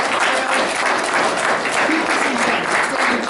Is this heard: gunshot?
no